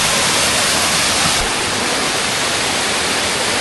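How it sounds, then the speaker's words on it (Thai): Chantathen Waterfall in Si Racha, Thailand, in the hot season roars as a dense, constant rush of falling water, loud and unbroken throughout. "น้ำตกด้วย"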